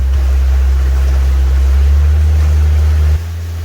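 Boat engine droning steadily at around 2000 RPM while cruising near 7.3 mph, a loud, continuous low rumble that drops off abruptly near the end as the throttle changes.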